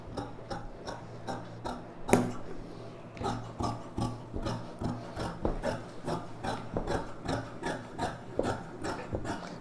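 Scissors cutting chudidhar lining fabric: a quiet, steady run of repeated snipping and rasping strokes at a regular rhythm, close up, with one sharper clack early on.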